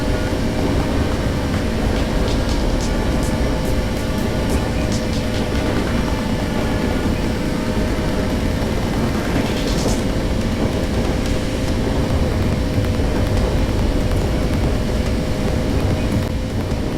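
A train runs steadily in a Punishing Gray Raven game scene, a dense continuous rumble and rattle with no breaks, loud and close, with faint whooshing sweeps over it.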